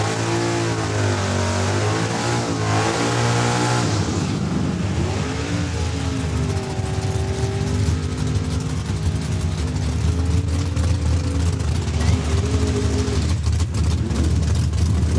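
Truck roaring down a drag strip at Saskatchewan International Raceway, loud sustained engine with a rising, revving pitch in the first seconds, then a continuous drone that fades as it pulls away; announcer-style voices faintly underneath.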